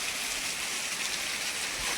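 Heavy rain pours down in a dense, steady hiss that stays loud and unbroken throughout.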